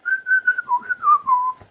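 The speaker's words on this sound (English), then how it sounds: "James is literally whistling like" Someone whistles a short, wavering tune, the pitch wobbling up and down over a couple of seconds, close and clear with nothing else around.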